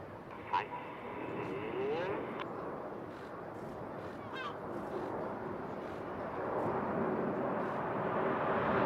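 Red Arrows jets flying in formation at the Eastbourne International Airshow, a broad distant roar that swells steadily toward the end, heard outdoors under crowd noise and faint talking.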